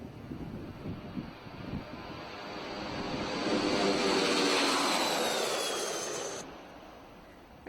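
Cabin of the SOFIA flying observatory, a converted airliner in flight: a steady broad jet roar that swells in the middle and then eases, with a faint whine and no voices.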